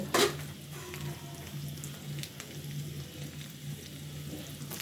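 Noodles frying in a pan seasoned with Maggi masala, a steady soft sizzle with a brief clatter at the start, close and alone without talk.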